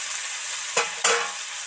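Onion and tomato fry in hot oil with salt in a fish-curry pan, a steady bright sizzle broken by two quick scraping stirs of a spatula, close and alone.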